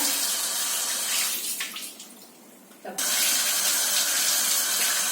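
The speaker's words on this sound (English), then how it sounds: "you need to, of course, wash the cucumbers" Cucumbers being washed under a running kitchen tap, a steady loud rush of water that briefly softens and drops away near the middle before returning at full flow.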